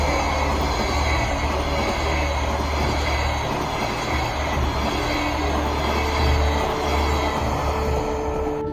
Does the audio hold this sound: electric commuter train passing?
yes